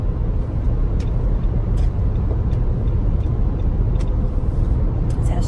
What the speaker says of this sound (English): That's what that is a chicken feed truck.